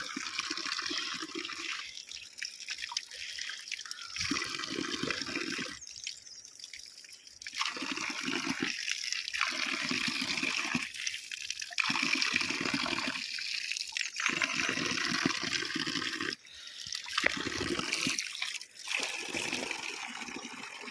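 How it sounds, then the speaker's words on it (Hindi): Water rushing steadily through an irrigation channel toward fields in the Bhaderwah hills, a continuous loud gushing roar close by for the whole stretch, with no talk over it. "ये यहाँ से खेतों में जा रहा पानी।"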